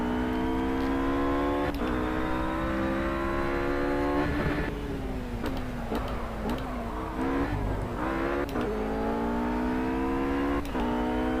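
Race car engine in the Project CARS racing game on Xbox One, revving high and bouncing off the rev limiter with repeated shifts and drops in pitch, loud and continuous.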